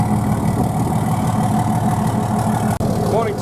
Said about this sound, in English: she's just firing up 4 FPT diesels